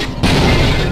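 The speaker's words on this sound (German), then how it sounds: "Wieso explodiert das denn?" A sudden heavy explosion goes off in the Half-Life video game, a loud booming blast that hits after a brief quiet moment and then rumbles on at full strength.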